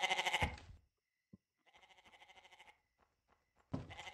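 Goats bleat in the video game Chupacabras Night Hunt: a loud bleat at the start, then a quieter wavering one through the middle, and another loud bleat at the end, with brief gaps between.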